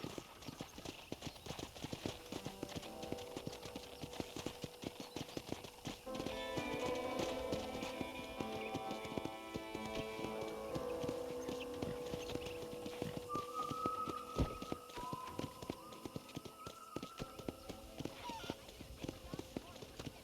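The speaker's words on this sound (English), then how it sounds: "let's see if you can still ride a horse" In Red Dead Redemption, a horse trots along with steady rhythmic clip-clop hoofbeats, joined by game music and voices talking over the ride.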